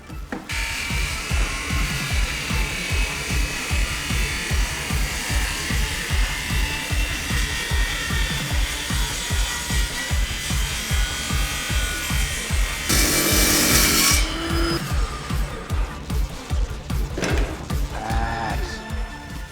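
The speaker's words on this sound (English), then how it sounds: "So let's start with the bevel." Steady loud whine of a power tool cutting a bevel into timber for a wooden shotgun stock, continuous and close with a rapid buzzing pulse, swelling briefly harsher near the end.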